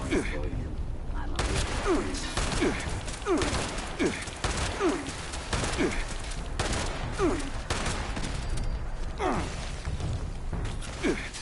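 Repeated gunfire in the Fallout 76 video game, sharp shots in an irregular rhythm across the whole stretch, fairly loud and close, with someone talking and reacting over it.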